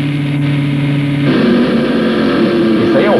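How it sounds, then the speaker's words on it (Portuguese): A 1994 Ford Formula One engine in Nigel Mansell's car drones steadily, its pitch shifting and swelling partway through, loud and continuous with no talking. "Agora vamos ouvir o som do motor Ford 94 do carro de Nigel Mansell."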